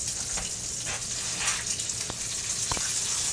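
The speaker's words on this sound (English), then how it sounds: "got a pan full of 3 slices of bacon cut up, frying up in a little bit of olive oil" Three slices of chopped bacon frying in a little olive oil in a pan, a constant bright sizzle and crackle with a few sharp pops, heard close and alone without talk.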